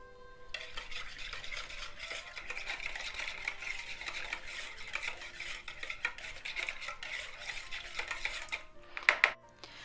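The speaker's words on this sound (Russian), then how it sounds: "Все размешаем." Steady scraping and clinking of a utensil stirring eggs and vinegar in a bowl, continuous and close, ending with a couple of sharper taps.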